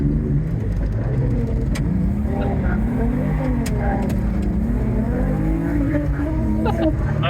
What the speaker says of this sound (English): Couldn't hear the tires with all the diff noise